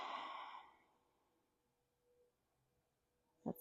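A single breath is exhaled during chair yoga, a soft airy sigh at the start that fades into near silence, followed by a brief faint sound at the end.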